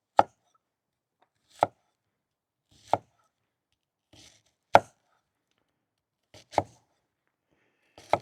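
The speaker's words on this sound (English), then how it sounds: "dicing an onion is pretty simple. Just cut little veins." An onion being diced with a butcher's knife on a board at a campsite, six sharp isolated chops spaced a second or more apart, close and clear.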